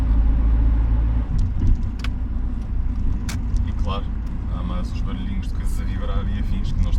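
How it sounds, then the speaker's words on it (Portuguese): Inside a moving Rover 400, a steady low engine drone mixes with wind and road noise and small rattles, while someone talks over it. "Já começamos a ouvir barulho aerodinâmico a 50 horas."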